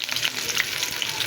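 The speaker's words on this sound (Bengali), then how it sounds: "আর এই যে রসুনগুলো দিয়ে দেবো, রসুন কাঁচামরিচ," Garlic and green chilies fry in hot oil in a pan, a close, dense, continuous sizzle and crackle throughout.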